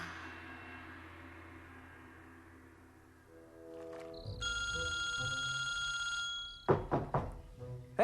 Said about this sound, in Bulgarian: Ей, Джако, телефонът ти все звънеше и аз вдигнах.